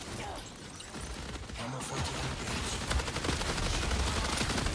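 Sniper rifle fire and chaotic gunfire from the Marathon first-person shooter, a dense, loud barrage of sharp cracks that builds and stays busy throughout, with a faint voice somewhere in the mix.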